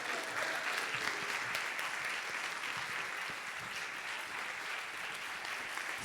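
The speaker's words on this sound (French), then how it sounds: "On peut applaudir bien fort Sarah" Audience applauding steadily after a singer's performance at a music and cinema evening, a dense, even clapping that holds throughout at a moderate distance.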